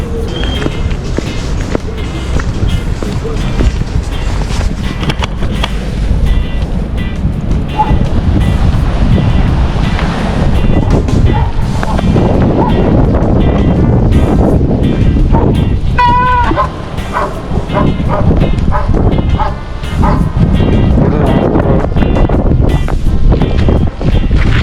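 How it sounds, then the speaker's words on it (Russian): Strong wind on a late-April day in a deep forest, roaring and buffeting the microphone almost without pause, loud and close, with gusts rising and falling and a few brief other noises underneath. "Теперь этот ветер в спину"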